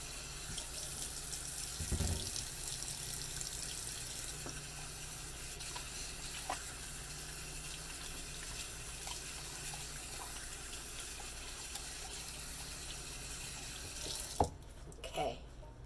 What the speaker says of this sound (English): my first thing that I do is I wash my hands